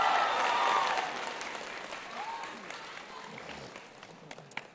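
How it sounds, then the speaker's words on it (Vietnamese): A studio audience at a televised team competition bursts into loud applause that gradually thins and fades, with a voice briefly audible beneath the clapping. "Một tràng pháo tay dành cho Khả Như và Cá Biệt"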